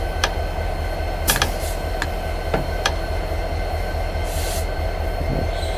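A diesel locomotive in Train Simulator 2017 slows under braking, steady rolling rumble broken by several sharp metallic squeals and clicks from the wheels, heard alone without voices.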